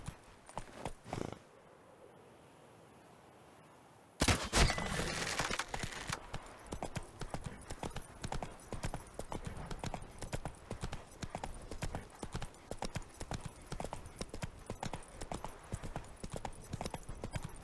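Horse hooves clip-clop in a fast, steady gallop in The Witcher 3 video game, loud and continuous after a brief pause and a burst at the start, with the rhythmic beats running to the end.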